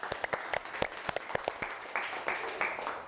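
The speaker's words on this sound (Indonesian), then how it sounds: "Oke, kasih aplaus." A classroom group gives a short round of applause: quick, uneven hand claps from several people, close and fairly loud, with a few voices calling out underneath.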